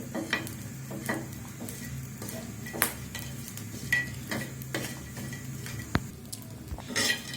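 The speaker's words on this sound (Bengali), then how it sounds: "তাওয়ার মধ্যে টেলে নিচ্ছি শুটকিটা" Dried bamboo-leaf fish dry-roasting on a tawa, with scattered scraping and metallic clinks of a utensil stirring against the pan over a low, steady background.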